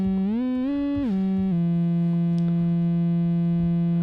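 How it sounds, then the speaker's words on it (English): Sustained modular synthesizer tones glide smoothly between pitches, bending up and then down in slow slides shaped by a Dual Universal Slope Generator before settling on a steady, buzzy held note, loud and alone. "So you can start to hear that slew and slide between notes."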